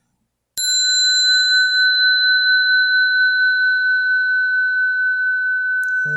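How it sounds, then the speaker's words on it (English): A single meditation bell is struck once and rings out in a pure, sustained tone that hangs evenly for several seconds, loud and close, followed by a faint knock at the end. "I'll ring 3 bells, and then we'll begin the show."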